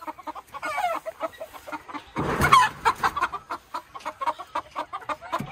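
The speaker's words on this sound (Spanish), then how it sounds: "Miren, estos son los pollitos que Ildefonso ha amarrado recientemente." Young chickens raised naturally on a farm cluck in rapid, uneven bursts close by, with a louder flurry of squawking in the middle of the short stretch and no talking.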